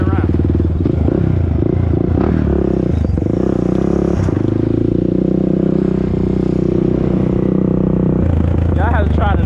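A 2001 Honda TRX400EX ATV riding through mud and turning corners, its engine a loud, close rumble with revs rising and falling while a person talks over it.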